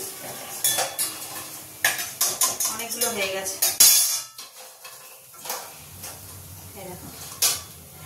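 Soybean koftas crisped with rice flour fry in a pan, with repeated close metallic clanks and scraping of a utensil against the vessel, brief bursts over a low sizzle, while a voice speaks briefly.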